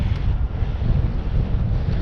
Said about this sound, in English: Very bloody windy.